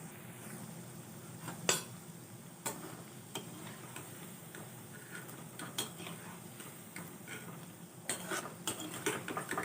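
Traditional Sankranti snacks fry in oil, making a soft, steady sizzle, with intermittent clinks and scrapes of a utensil against the pan punctuating it at irregular intervals.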